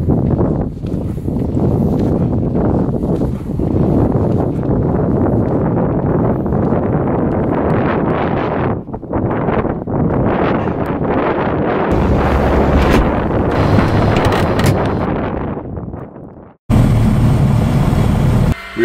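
Strong wind buffeting a microphone in a loud continuous roar, gusting and rumbling throughout with brief drops and abrupt changes.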